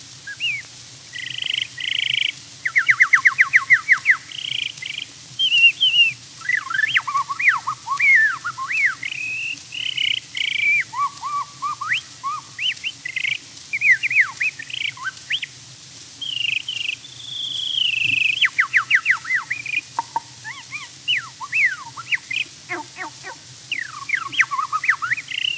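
A man whistles an imitation of a catbird's song, a long run of varied, rapid chirps, slurred notes and short warbling phrases broken by brief pauses, clear and close against a faint hum on an old 1915 recording.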